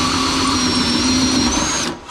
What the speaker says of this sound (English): Right now I want to get these holes drilled